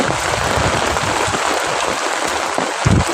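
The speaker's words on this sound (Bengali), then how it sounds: "দেখো কত বৃষ্টি হয়েছে বা হচ্ছে" Heavy rain pours down steadily in Bankura during a downpour that floods some houses, a dense, continuous hiss close by with no talk over it.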